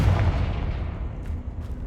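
Confringo, an explosive spell in Hogwarts Legacy, bursts with a loud, close, rumbling blast that rolls on continuously, with a few faint crackles near the end.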